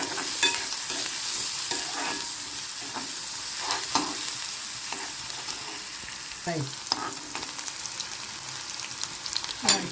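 Steady crackling sizzle of onion frying in hot oil in a pan, with occasional stirring scrapes and sharper pops throughout.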